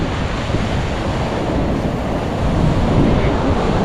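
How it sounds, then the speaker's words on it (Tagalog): Loud, constant roar of strong wind buffeting the microphone at a river mouth, with a surf-like rush underneath and no breaks. "Malakas pa naman ang hangin."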